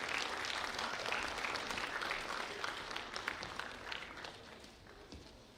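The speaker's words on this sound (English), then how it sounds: "Please, a big round of applause, ladies and gentlemen." A crowd at a film festival opening ceremony applauds during a bouquet presentation to an actress, dense steady clapping heard from a distance, faint and gradually tapering off.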